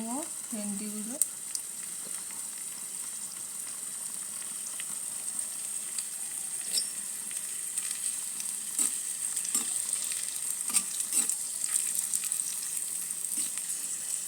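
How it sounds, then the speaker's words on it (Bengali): Okra frying in a pan with salt and turmeric, a soft continuous sizzle with scattered crackles and pops that thickens slightly toward the end, preceded by a brief tonal blip at the start. "একটু নুন আর একটু হলুদ দিয়ে ভেজে নেব ভেন্ডিগুলো।"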